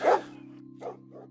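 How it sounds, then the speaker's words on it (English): Large wolfhounds bark at an iron gate: a loud close bark, then two shorter, weaker barks, over a steady low hum. "4 or 5 large wolfhounds rushed at the iron gate, barking wildly and standing on their back legs."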